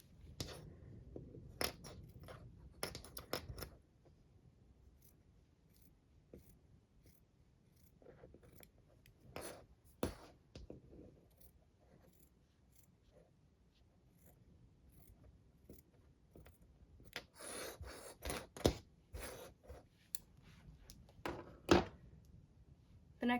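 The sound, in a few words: scissors trimming fabric seam allowance on a bralette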